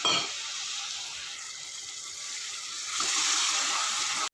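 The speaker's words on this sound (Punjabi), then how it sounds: "ਥੋੜਾ ਜਿਹਾ ਪਾਵਾਂਗੇ ਆਪਾਂ ਪਾਣੀ" Water goes into a hot pan of tomato and spice tadka for a black chickpea and paneer curry, giving a soft, steady hiss that swells into a louder burst near the end, with no talking.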